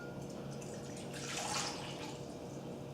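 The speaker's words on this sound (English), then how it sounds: "I'm going to take my warm water, put it in a bowl" Warm water pours into a bowl for a whole wheat pizza dough, a soft continuous splashing trickle that swells briefly in the middle, close by and with no talk.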